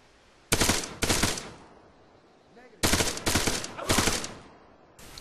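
Bursts of rifle gunfire during Marine platoon training, loud close volleys of rapid shots in two clusters with a quiet pause between them.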